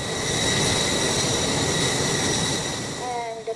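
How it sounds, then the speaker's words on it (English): An airplane in the video game PTFS flies with a wind shaking effect, a steady broad rushing drone of engine and wind noise with a faint tonal whine, fading slightly near the end. "And the plane has a wind shaking effect."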